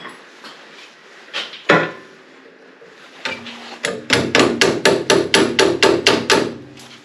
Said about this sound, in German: Ich hole mal einen Dorn und einen Hammer und dann kloppen wir das da mal raus.